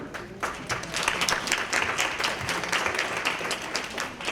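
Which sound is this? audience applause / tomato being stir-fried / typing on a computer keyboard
audience applause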